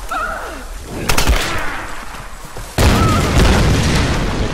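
A dynamite stick explodes in the Tomb Raider video game, with two loud booming blasts about a second and a half apart, each leaving a rumbling, crackling tail.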